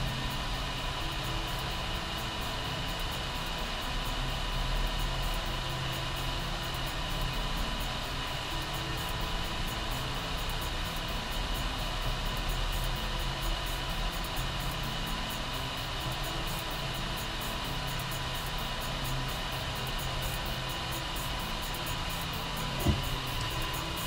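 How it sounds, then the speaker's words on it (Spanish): Cooling fans spin steadily on the heatsink of a homemade electronic load after a 200-watt power test, a constant broadband whoosh with a faint hum that continues unbroken and close, with no talk. "Los ventiladores empiezan a hacer su función"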